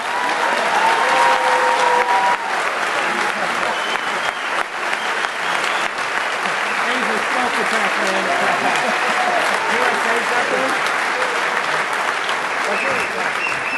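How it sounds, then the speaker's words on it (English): Large hacker-conference crowd at closing ceremonies applauding loudly and continuously, with cheers and voices mixed into the steady wall of clapping. "if we could get a round of applause"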